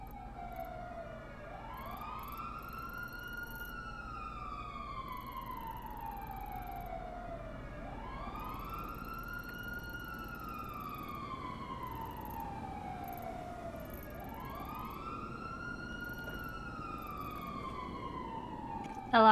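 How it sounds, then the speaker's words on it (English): Wailing emergency vehicle sirens from a GTA roleplay game session, sweeping up and down in long repeating cycles, heard at a distance and steady throughout with no talk over them. "I didn't realize you could hear those sirens from so far away."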